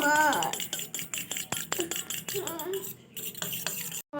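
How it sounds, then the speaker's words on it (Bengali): Veg Manchurian batter stirred with water in a bowl, producing irregular spoon clinks, taps and wet squelching strokes, with someone speaking over parts of it. "এরপর এটাকে আমি খুব ভালোভাবে মিক্সড করে নিচ্ছি জল খুব ভালোভাবে মিশিয়ে নেব"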